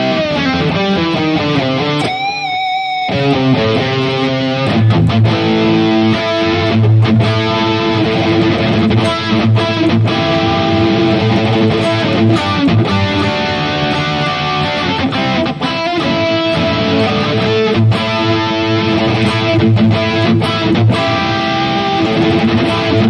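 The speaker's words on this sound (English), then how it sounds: "Friedman 80s Friedman amp needs a lot of EQ in this unit." An electric guitar runs through the Friedman 80s amp preset on a JOYO Gembox K8 multi-effects unit, giving heavily distorted high-gain riffs that stay loud and dense throughout with short palm-muted stops and no talking.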